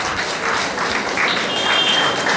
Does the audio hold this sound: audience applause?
yes